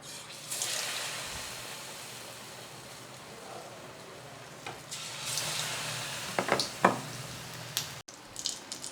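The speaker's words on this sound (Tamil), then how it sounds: "ஒரு உருண்டையாக எடுத்து மாவில் டிப் பண்ணி எண்ணெயில் போட்டுடலாம்" Potato masala bonda balls sizzle and crackle steadily in hot oil, a continuous frying hiss with brief bubbling bursts and a few clinks near the end.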